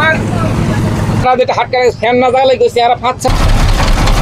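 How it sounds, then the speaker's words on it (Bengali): A boat's motor rumbles loudly and close by as it sets off on Hasaigari beel, a lake in Naogaon. The engine noise drops away briefly while a voice is heard in the middle, then returns. "এই যে আরেকটি নৌকা ছেড়ে দিল।"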